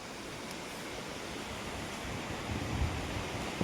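Water rushes steadily at Gotameshwar lake, a constant broadband wash that swells slightly toward the end, with no voices.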